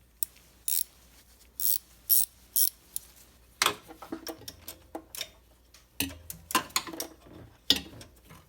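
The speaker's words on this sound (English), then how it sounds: "get a 12mm gear wrench." A 12mm gear wrench ratchets on an alternator bolt of a Toyota MR2 Turbo SW20, giving short bursts of crisp clicking in separate runs. Each run is close and distinct, with brief pauses between strokes.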